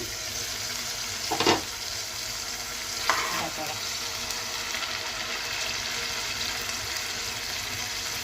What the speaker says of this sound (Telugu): మూత పెట్టి ఫ్రై చేస్తాను